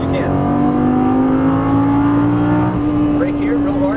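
A Lamborghini Gallardo LP550-2 accelerates hard out of a corner on a track, its engine note a loud, steady drone climbing gradually in pitch and heard close from inside the car.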